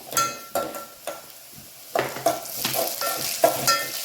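Green chillies go into a pan of sautéed onions, producing a crackling sizzle broken by sharp, intermittent clatters of a spoon stirring against the pan, growing busier toward the end.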